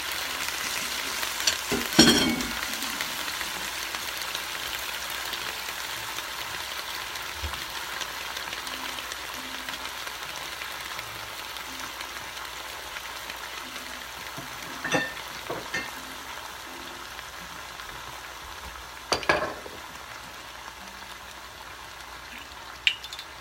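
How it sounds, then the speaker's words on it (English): Green onion, red pepper and Thai chili simmer on high heat, giving a steady soft frying hiss with a few brief clatters of a utensil against the pan, fairly faint and with no talking. "We want to simmer this for a little bit."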